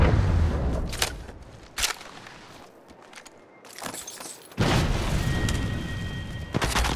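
Gunfire from Apex Legends Mobile: bursts of shots and booming impacts amid game noise, with a loud sustained stretch of rapid firing near the end and quieter gaps between, no talk.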